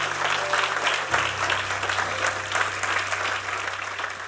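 A church congregation claps for the Lord during a sermon, a dense, steady wave of many hands applauding close and loud for several seconds, with a low constant hum beneath.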